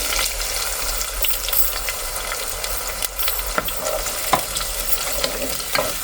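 Onion, garlic and chili paste frying steadily in oil, a continuous close sizzle with a few sharp pops and clicks from stirring, no voices.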